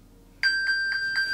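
An iPhone plays the Find My ping, set off remotely from an Apple Watch: a bright electronic tone repeats about four times in quick succession after a brief quiet lead-in, clear and close.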